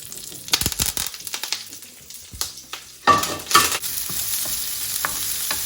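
Torn curry leaves crackle and spit in hot avocado oil, a dense close sizzle with sharp popping bursts, flaring louder partway through, with no voices.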